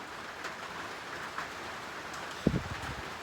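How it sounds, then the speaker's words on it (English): Heavy rain pours in a steady, dense hiss, with a brief nearby knock partway through. "Can't even pass with this rain on the roads."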